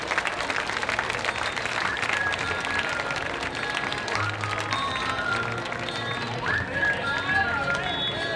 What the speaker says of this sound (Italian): E un grande applauso su questo cambio!